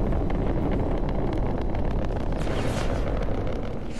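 A rocket launch heard as a steady, broad roaring rumble from a distance, loud and unbroken throughout with some wind buffeting on the microphone and no talking.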